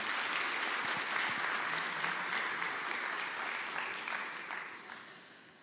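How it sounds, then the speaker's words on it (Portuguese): A church congregation claps during a Lenten homily, a steady wash of applause that holds and then slowly fades over several seconds with no talking. "Aplauda os anjos de Deus que estão aqui."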